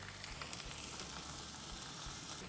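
Close, continuous sizzle of a BBQ meat cut searing on a hot plate, a dense crackling hiss without any talking.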